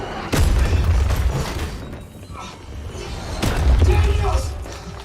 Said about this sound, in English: Why did I just shoot her, dude?